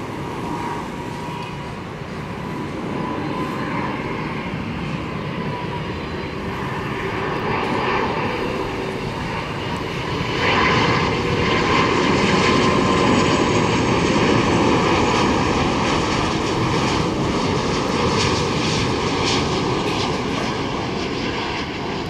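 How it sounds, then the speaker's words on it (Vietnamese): Vietjet Air Airbus A330-300 landing at Tan Son Nhat airport on a flight from Noi Bai, Hanoi, its steady broadband engine roar loud and continuous, swelling slightly louder midway as the jet passes close, with no talk. "Và chiếc Airbus A330-300 đã hạ cánh xuống đường băng Tân Sơn Nhất."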